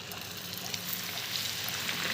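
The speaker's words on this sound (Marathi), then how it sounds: "आता हे तेल तापलं आहे आता पुरी तळून घे" Puri frying in hot oil gives a dense, continuous crackling sizzle, close and fairly steady with small popping bursts.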